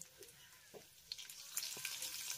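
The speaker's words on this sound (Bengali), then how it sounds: "এবার লো ফ্লেমে আমি এই কাঁচা লঙ্কা আর রসুনের কোয়াটাকে হালকা করে একটু ভেজে নেবো" Slit green chillies and garlic cloves fry gently over a low flame, a faint soft sizzle with a few brief taps and stirs, quiet and close, no one speaking.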